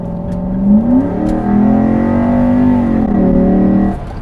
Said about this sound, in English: I love the sound of that intake.